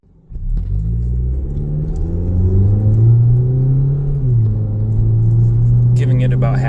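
A 2014-2017 Jeep Patriot on a road test at about half throttle, its engine droning steadily and rising in pitch before a shift drops the note, heard from inside the cabin without speech.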